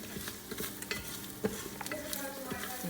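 Curry powder toasting in a pot on the stove for Jamaican curry goat, a steady close sizzle with repeated stirring scrapes and small clinks throughout, no talking.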